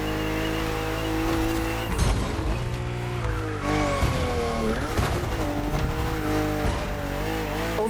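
BMW cars race on a narrow, winding track in The Crew Motorfest, their engines roaring loudly and continuously, with pitch swinging up and down through gear changes and bursts of tire noise.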